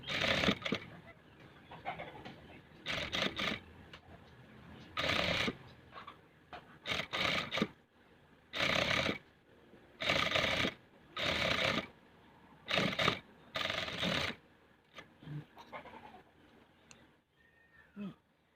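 A sewing machine stitches a trouser waistband in short repeated bursts of rapid whirring, a dozen or so runs separated by quiet pauses, close and fairly soft.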